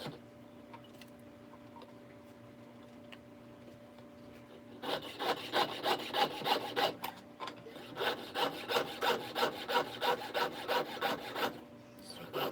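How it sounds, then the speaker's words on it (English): A Dremel rotary tool cuts into a metal spoon, shaping a fish or whale tail: a quiet hum for the first few seconds, then a loud, rhythmic grinding burst that stops briefly and resumes in repeated close strokes. "as we use the Dremel on it"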